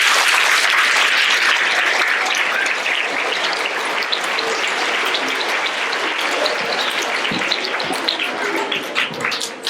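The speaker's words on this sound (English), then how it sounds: "All right, big round of applause." Loud, sustained applause from a school audience at an awards assembly fills the whole stretch, dense and steady with scattered sharper claps, tapering slightly near the end.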